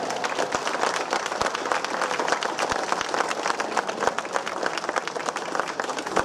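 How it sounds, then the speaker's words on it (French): Audience applause for cycling prize winners at a Route de France time-trial ceremony outdoors, a dense steady clatter of many hands with a few sharp individual claps standing out. "Allez, on les applaudit bien plus fort encore."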